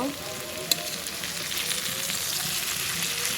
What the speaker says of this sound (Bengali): করলা ভাজি রীতিমতো আমি বসায় দিয়েছি। করলা ভাজিটা করব।